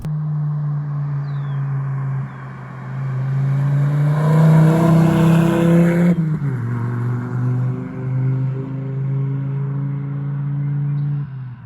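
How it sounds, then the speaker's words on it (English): A 2004 Volvo S60 engine revs up and falls back, its tone rising and dropping across several seconds, with a sharp break midway and a steady drone afterward. "you hear all those pops and burbles"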